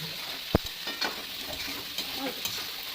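Small paneer pieces fry in a pan, sizzling softly while a spoon stirs them, with one sharp knock against the pan near the start and quieter scraping strokes after it.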